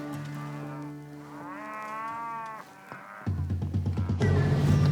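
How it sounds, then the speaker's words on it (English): Cattle during a roundup in Texas near the Mexican border, several cows mooing loudly and close by, long drawn-out calls overlapping one another, then a rapid rhythmic grunting burst at the end. "there's a lot of cows now encircling us"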